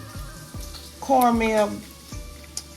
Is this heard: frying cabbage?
yes